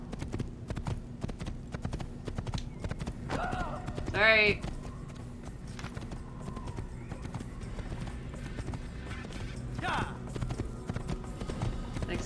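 Horse hooves clip-clop steadily in a video game, joined midway by a short whinny and a faint later neigh, with a player talking over the game sounds.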